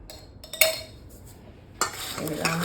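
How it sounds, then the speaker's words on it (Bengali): Mango pieces being mixed by hand with dry kasundi mustard sauce in a bowl, giving a few wet squelching and clinking stirs, close and moderately loud, with quiet gaps between them. "এই আমটাকে ভালো করে মাখাতে হবে"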